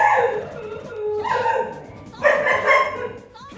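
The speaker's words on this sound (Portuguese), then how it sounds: "é um cão que está a ladrar, não sei onde." A dog barks somewhere outside in the street, with several drawn-out, yelping barks and whines in bursts, moderately loud and somewhat distant.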